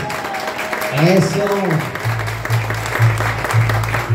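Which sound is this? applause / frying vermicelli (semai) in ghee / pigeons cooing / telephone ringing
applause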